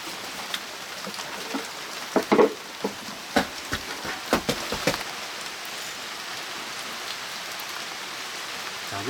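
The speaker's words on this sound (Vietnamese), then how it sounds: "Hôm nay tưởng nắng được một tí, giờ lại mưa." Rain falling steadily with a dense hiss, scattered louder drops tapping on a nearby surface in a cluster midway, no talk.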